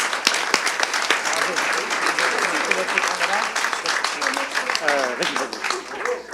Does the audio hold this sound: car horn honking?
no